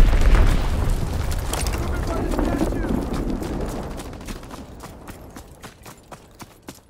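Bombs from a recon bombing run in Call of Duty WWII go off as a heavy, rumbling boom that rolls and fades slowly, followed by scattered sharp cracks of distant gunfire.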